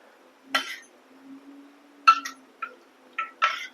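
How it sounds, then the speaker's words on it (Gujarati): A spoon stirs milk mixed with bread powder in a bowl, giving a few sharp, bright clinks spaced irregularly against an otherwise quiet background with no talking. "આ રીતે આપણે સરસ હલાવીને મિક્સ કરી લેવાનું છે"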